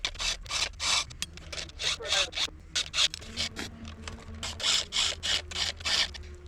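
A chainsaw chain is hand-filed in steady, rhythmic rasping strokes, roughly a dozen close scrapes with brief pauses between them and a faint low hum underneath.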